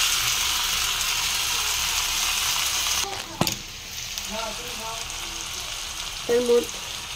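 Onion, potato and cauliflower frying before tomatoes, green chilli and ginger-garlic paste go in; a steady sizzle that drops suddenly as the wet ingredients land, followed by quieter frying and a few clinks.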